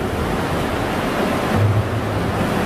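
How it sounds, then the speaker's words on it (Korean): Sea waves break and foam along the shore at Wakayama, Japan, a steady, loud wash of surf filling the whole stretch with no voices. "파도가 치면 저렇게 거품이 뽀글뽀글 올라온다고"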